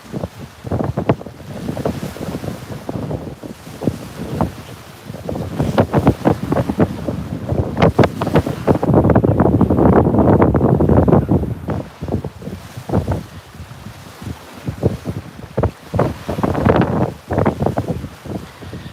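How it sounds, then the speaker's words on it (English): Strong wind on a river during a fishing trip, gusts of 25 to 30 miles an hour roaring and buffeting the microphone almost continuously, swelling into a heavier blast mid-clip and again near the end. "I appreciate y'all sticking it out with me while it's rough and windy."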